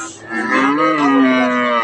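A crossbred cow at a Comilla cattle market gives one long, loud, close moo that wavers in pitch for about two seconds.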